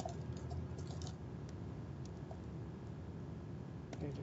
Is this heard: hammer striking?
no